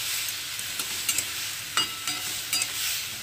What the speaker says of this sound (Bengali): তো দেখুন বন্ধুরা, এগুলোকে ভাজা ভাজা করে নিচ্ছি।